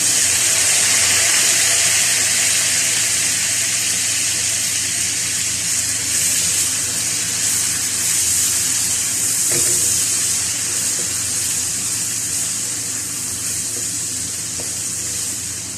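A steady, hissing sizzle of tomatoes frying in a hot pan, continuous and fairly loud for the whole stretch with only faint clinks underneath.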